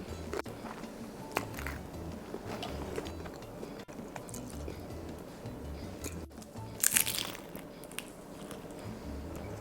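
Someone bites and chews crunchy cheesy rolled taquitos up close, with soft crunches and mouth sounds and one sharper crunchy burst near the end, no speech.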